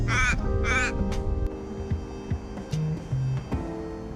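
An Australian white ibis, the so-called bin chicken, calls on a rainy day at a racetrack. Two loud, harsh croaking calls come first, then fainter grunts and scattered calls, with bird chatter and low background noise around them.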